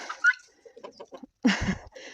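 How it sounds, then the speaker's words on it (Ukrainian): Chickens and guinea fowl cluck and squawk in short, scattered calls, one louder harsh burst near the end, fairly close with quiet gaps between. "позбігалися цесарки, починають курей розгонити, особливо самці"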